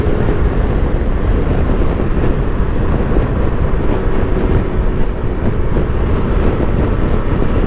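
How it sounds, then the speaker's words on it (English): Steady wind buffeting around the low-set aftermarket screen of a KTM Super Adventure R motorcycle at touring speed, a continuous loud roar with no talk. "There's a little bit of buffeting, but it's still much better than the stock screen on this bike."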